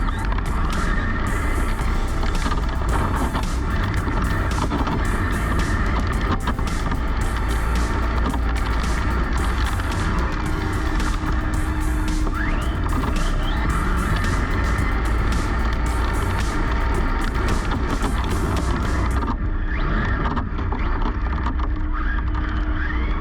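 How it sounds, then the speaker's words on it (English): A Tamiya TT-02 Type-S RC car on a speed run gives a continuous high electric motor whine, with constant rolling and road noise throughout, steady and loud, before it thins out near the end. "you can even hear the difference. The RPMs of the motor just aren't getting as high"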